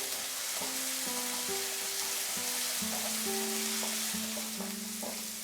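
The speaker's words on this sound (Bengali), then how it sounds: "এবার এটাকে আমি আরো 2 মিনিট মতো কষিয়ে নেব মিডিয়াম আঁচে" Spices and ginger paste sautéing on medium heat in a pan for Bengali fish curry, a constant hissing sizzle with a faint melodic tone running underneath and no talk.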